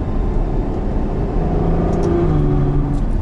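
Ferrari GTC4 Lusso, a 690-horsepower grand tourer, driving along with a loud, close engine drone and rising harmonic tones as it pulls through the gears, heard from the cabin.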